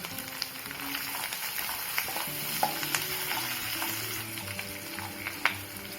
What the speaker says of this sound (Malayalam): നമ്മുടെ കറിവേപ്പിലയും കൂടെ ആഡ് ചെയ്ത് നന്നായിട്ട് അതിനെ ഒന്ന് വഴറ്റിയെടുക്കാം